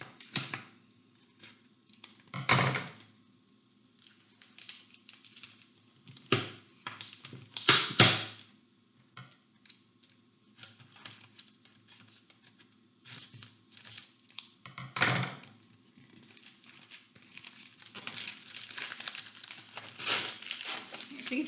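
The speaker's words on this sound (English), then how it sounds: "we are going to cut the label off of whatever kind of bottle" Plastic label being cut and torn off a 2-liter plastic bottle, heard as scattered crinkling, snipping and tearing bursts close up, with quieter rustling in between and a voice talking at times.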